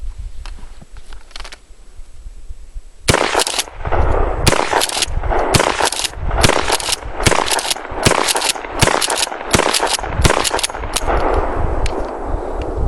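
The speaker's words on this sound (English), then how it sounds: "I'm going to try some Federal Target rounds next, and let's see how they do" A Mossberg 590 pump shotgun with a Blackhawk stock fires cheap Federal Target 7.5 shot. About a dozen loud, sharp blasts ring out in an uneven string, close and dominant over faint background noise after a quiet start.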